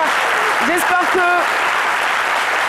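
A French midday TV studio audience applauds steadily, a dense continuous clatter that fills the whole stretch while a presenter keeps talking over it.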